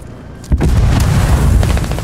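A tank cannon in the military shooter Squad fires with a sudden heavy boom about halfway through, followed by a sustained loud rumbling roar that lingers to the end.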